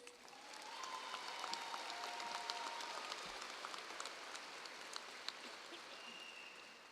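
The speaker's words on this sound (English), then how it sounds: "Can I get a round of applause for our teachers?" A high school graduation crowd applauds the teachers with broad, steady clapping that swells and holds at an even level, heard from a distance with a faint murmur of voices.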